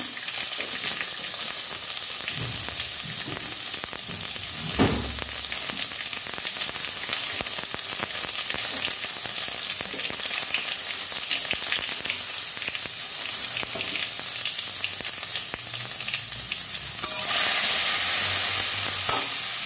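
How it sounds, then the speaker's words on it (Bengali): Mustard seeds crackle and sizzle in hot oil as tempering for a sweet, sour and spicy amla recipe, a dense continuous frying hiss with occasional stirring knocks, close and steady throughout. "সর্ষে ফোড়ন দিলাম।"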